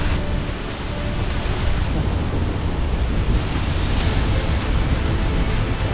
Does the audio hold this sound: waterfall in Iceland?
yes